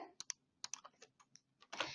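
Close keystrokes on a computer keyboard, a quick irregular run of clicks with short pauses and a denser cluster at the end, alone and fairly quiet.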